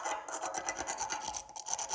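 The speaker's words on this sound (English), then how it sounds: "I'm going to try and scrape it off." Scraping corrosion off a 270-year-old key that spent centuries underground: a close, steady rasping scrape repeated in short strokes, with no talking.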